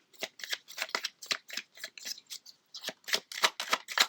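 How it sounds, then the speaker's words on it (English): A deck of playing cards being shuffled during a tarot-style reading, a rapid run of crisp riffling bursts repeating steadily, close and fairly loud with no talking. "I'll give another shuffle"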